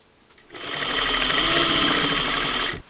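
A sewing machine stitches fabric for the waistband of a pair of trousers, starting after a quiet pause and whirring in a fast, steady run for about two seconds before stopping.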